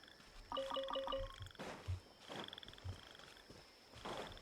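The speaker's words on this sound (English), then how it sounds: "Why are the frogs and crickets?" Frogs croak in short repeated bursts within the Genshin Impact game world, with a steady high cricket-like chirp running beneath and soft pulsing ambience at moderate level, no talking.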